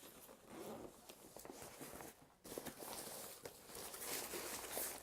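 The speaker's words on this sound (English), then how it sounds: "we've got one large black canvas bag with zips, and I think it zips round this way" Zipping open a large black canvas bag with zips around it, a scratchy rasping run of zipper sound with a short pause midway, close and fairly quiet, no talking.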